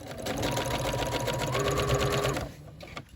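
A sewing machine runs steadily, stitching down the side seam of a Simplicity 8797 coat in one continuous burst before it stops and goes quiet.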